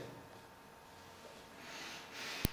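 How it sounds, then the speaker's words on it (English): A single quick, sharp sniff of tea leaves during a tasting, heard near the end against a quiet background hiss. "I'm going to give this a quick sniff."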